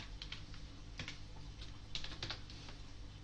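Quick, uneven keystrokes on a computer keyboard as a short line of text is typed, soft clicking bursts over a steady low background hum, with no talking.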